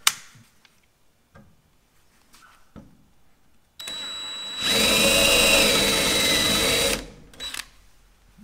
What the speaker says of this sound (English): drill and disconnect that head from the rest of the rivet to where this thing can pop off.